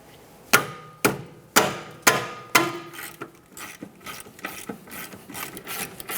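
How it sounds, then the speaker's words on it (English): A ratchet loosens 17mm caliper bracket bolts on a 2011-2020 Toyota Sienna rear brake, with five loud, evenly spaced clicks followed by a quicker, fainter run of ratcheting clicks close by. "We'll loosen the top bolt, leave it in just a couple threads, and then fully remove the other bolt."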